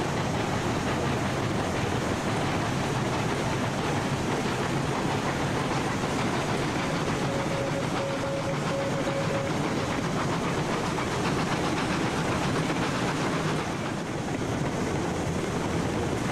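A locomotive rolls along rails in the Railroads Online video game, a steady dense rumble of wheels and engine noise that holds at a constant level throughout without any talk.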